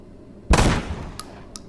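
A single loud, close blast from an automatic shotgun at a virtual-reality shooting range in a game, with a sharp attack and quick decay, followed by two faint, brief clicks.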